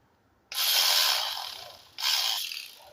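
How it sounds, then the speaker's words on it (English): A ratchet tightens the ignition coil bolts on a 2006-2011 Toyota Camry in two close, loud bursts of fast clicking, the first longer and then a shorter second, with no talking. "ready to tighten these bolts back up"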